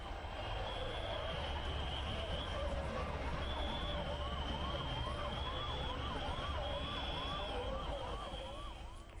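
An ambulance siren wails continuously with rising and falling sweeps through a dense crowd at a Rang Panchami street festival in Indore, loud and close over steady crowd noise and chatter.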